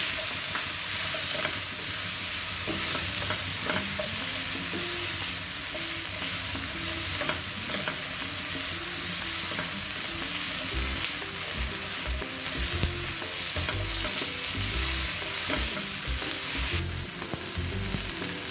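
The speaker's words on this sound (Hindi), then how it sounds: "ये हमारी वेजिटेबल्स थोड़ा स्टर हो जाए" Mixed vegetables and boiled baby corn being stir-fried for a chicken salad, with a steady sizzle broken by repeated scraping and stirring knocks over a long stretch, no one speaking.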